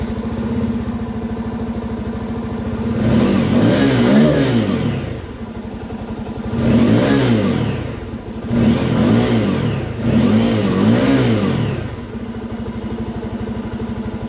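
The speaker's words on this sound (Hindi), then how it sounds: "आपको हम एग्जॉस्ट नोट जो है वो सुना देते हैं एक बार इस बाइक का।" A Bajaj motorcycle with a dual-barrel exhaust idles with a steady low rumble, then is revved four times in quick bursts, each rising sharply and falling back to idle, heard close and alone.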